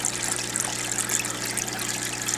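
Water trickles and drains out through drilled holes in PVC barracks, a steady close splashing flow over a low pump-like hum.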